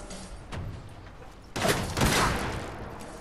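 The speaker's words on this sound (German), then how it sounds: "Ich dachte gerade, ich hätte mehrere Schüsse abbekommen." Bursts of gunfire in the video game Fallout 4, a couple of sharp volleys rattling out over a steady background hum, the second stretch louder and denser.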